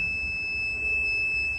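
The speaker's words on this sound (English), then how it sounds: "And then you can check this alarm on the screen." An automatic cellophane packing machine's alarm sounds as a steady high-pitched electronic tone held without a break over low machine hum.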